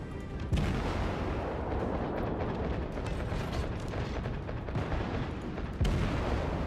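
A destroyer taking naval gunfire in World of Warships, with a continuous loud rumbling roar of engine and shell noise broken by heavy booming impacts near the start and end.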